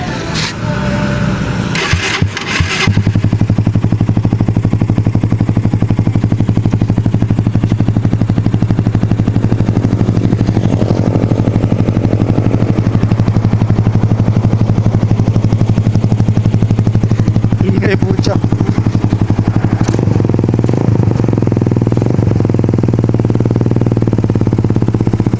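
Suzuki Raider 150 motorcycle fitted with a UMA slant pipe exhaust: the engine catches after a brief start, then settles into a loud, close, deep bassy idle held at slightly raised RPM, with a couple of short blips of revving.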